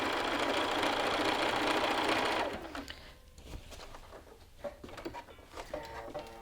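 A sewing machine runs close and fast in a steady whir, stitching the lapels of an Augusta garment. It stops after a couple of seconds, and faint clicks and handling sounds follow.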